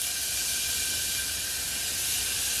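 One small chopped white onion hits hot olive oil in a pan, giving a steady, close, bright sizzling hiss that runs alone without a break.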